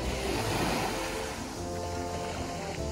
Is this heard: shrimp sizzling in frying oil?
no